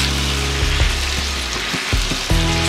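Cauliflower stir-fried in a wok with shacha sauce gives a loud, continuous sizzle, broken by a few clanking scrapes and tosses of the spatula. No one speaks.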